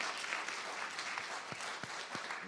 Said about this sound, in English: yes, you can definitely applaud that one